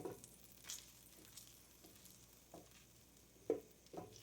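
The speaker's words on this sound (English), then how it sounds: "We're going to start with 1/4 cup of butter that we're going to get melted in our pan." A quarter cup of butter melts in a pan on the stove, giving faint, soft sizzling with a few light stirring taps and scrapes, quiet and close with no talking.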